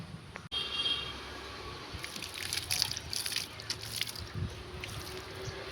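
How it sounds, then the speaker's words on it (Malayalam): Water poured over a horse's back during a wash, a steady splashing gush with dripping and sloshing, fairly close and continuous with no talk. "അങ്ങനെ വെള്ളം ഒഴിക്കുകയാണ് നമ്മുടെ കുതിരയുടെ പിന്നെ ഡയാനയുടെ പുറത്ത്."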